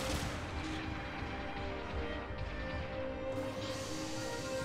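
Vulcan guns on the Zero Shiki Type 2 mobile suit in Gundam Battle Operation fire as a continuous, dense rattle of rapid shots. The burst is loud and unbroken, with mech and battle noise mixed in.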